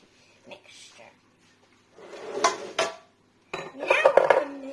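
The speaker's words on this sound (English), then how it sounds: "I'm going to add the nuts to the rest of the banana bread mixture" Nuts tumbling into banana bread batter in a mixing bowl, heard as a few soft clattering bursts of clinks and scrapes against the bowl, separated by short pauses, close and moderately loud.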